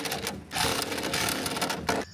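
A power driver whirs in bursts while screwing a part onto a treehouse suspension bridge stanchion, two short buzzing runs close by.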